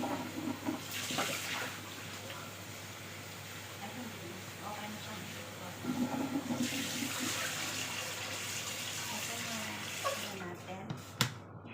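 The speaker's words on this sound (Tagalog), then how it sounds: "Hugasan mo natin itong bihon natin." Rice noodles (bihon) are rinsed under a running kitchen tap, with water splashing and gushing steadily close by, surging in places and briefly trailing off near the end, with a voice talking over it.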